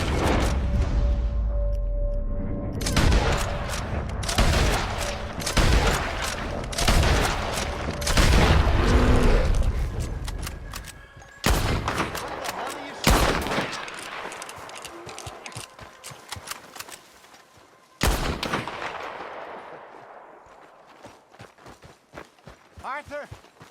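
Rapid rifle and revolver gunfire fills a Red Dead Redemption 2 hunt as shots are fired at the legendary Bharati grizzly bear, loud repeated bursts over heavy movement and shouting voices.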